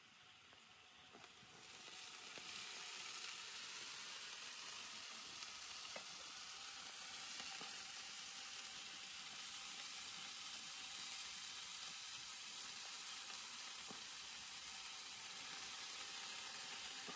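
Chili vegetables sizzle as they fry in spiced oil in a wok, a continuous soft crackling hiss that rises after the first two seconds and then holds steady and faint, with no talk.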